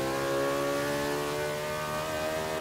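McLaren P1 in Forza Motorsport 5 on the Nordschleife accelerates hard with the throttle open, giving a steady, close, tonal engine roar with layered harmonics that holds for a couple of seconds.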